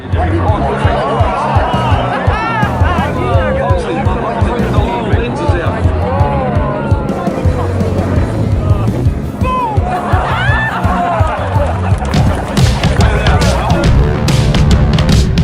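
An air show crowd murmurs and chatters in a dense, steady babble, reacting as a helicopter drops a caravan, with scattered louder exclamations and a surge of crowd noise toward the end.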